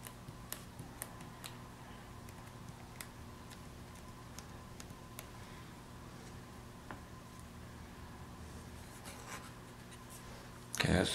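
A quill pen scratches across a feather in soft, sporadic strokes and ticks, quiet and close in a still room, ending in a brief louder rustle.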